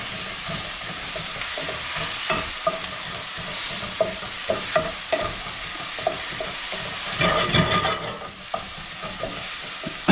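Chana masala stirred in a hot pan, a spoon scraping and clacking in irregular bursts over a steady close sizzle, with a louder rattling scrape near the end and no talking.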